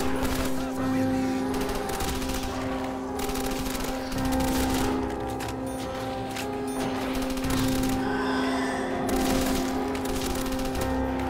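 Sustained AK-74U gunfire in a Call of Duty custom zombies map, continuous rapid bursts over a steady tonal game drone with scattered effects and honk-like creature sounds, loud and dense throughout.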